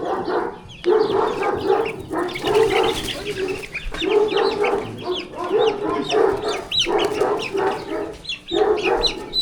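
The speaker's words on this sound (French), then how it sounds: "C'est des poussins, ça?" Chicks and chickens clucking and peeping close by in repeated bursts, with a dog briefly barking in the mix.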